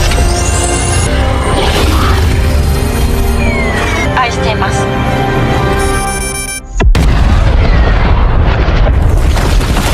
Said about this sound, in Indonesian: Terlihat ledakan besar pun bergema, menghancurkan Striker Eureka bersama dua kaiju lainnya